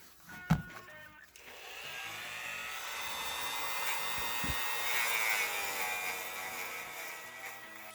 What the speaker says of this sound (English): Just going to grind this out.